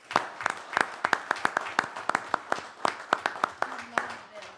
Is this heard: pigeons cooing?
no